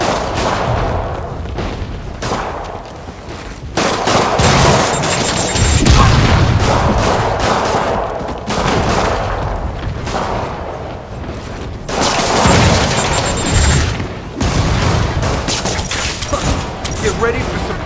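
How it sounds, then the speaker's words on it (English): Rockets launching and exploding during a fight in Marvel's Spider-Man, with repeated loud blasts and rumbling booms in a sustained barrage, and voices talking over the chaos. "More rockets? A little excessive, don't you think?"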